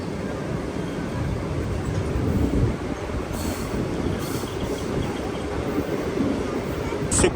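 A MEMU passenger train travelling between Palasa and Visakhapatnam, heard from inside as a steady, loud rumble of wheels on track with faint squealing and clatter throughout.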